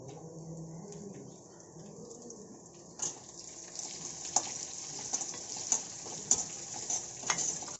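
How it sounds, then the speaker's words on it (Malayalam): Shallots frying with coconut pieces for ulli theeyal, a soft continuous sizzle with sharper crackles and stirring clicks becoming more frequent, quiet and close, with no talking. "നമുക്ക് ചുവന്നുള്ളി ഇട്ട് കൊടുക്കാം"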